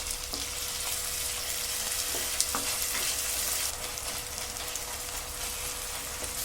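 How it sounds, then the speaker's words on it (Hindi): Tomatoes and green chillies fry and get stirred in a pan while making chana chaat, a loud, steady, close sizzle with occasional scraping knocks of the spoon and no talking. "थोड़ी देर भूनने के बाद इसमें टमाटर और हरी मिर्च ऐड करेंगे। टमाटर को थोड़ा सॉफ्ट हो जाने तक इसको चलाएंगे।"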